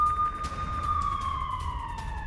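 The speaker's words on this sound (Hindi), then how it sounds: "लेकिन सायरन अभी भी बज रहे हैं" Air raid sirens wail across Israel during the Iran–Israel conflict, a loud steady siren tone that slowly glides downward, heard alone without talk.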